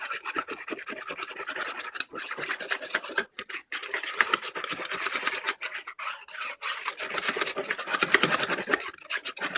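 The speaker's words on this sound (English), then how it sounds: "And then I whisk all of the lumps out." A whisk beats powdered milk and warm water in a bowl for homemade Greek yogurt, fast rhythmic scraping and sloshing strokes, close and steady with brief pauses.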